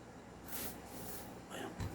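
Silicone oil sprayed from a can onto the gold barrel of a CZ P-09 airsoft pistol, two short faint hissing bursts close by in a quiet room.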